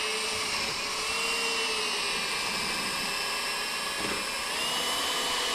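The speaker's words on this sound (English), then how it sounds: "Medium drill speed." A drill fitted with a polishing pad whines continuously at medium speed while polishing the headlight of a 2006 NC Miata, a steady close high-pitched hum without speech.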